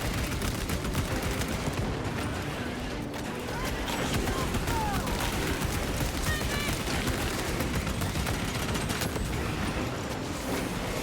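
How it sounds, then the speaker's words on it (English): Dense, continuous gunfire and explosive blasts from Space Marine 2, a frag grenade among them, loud and sustained throughout as heavy battle noise. "Frag grenade deployed."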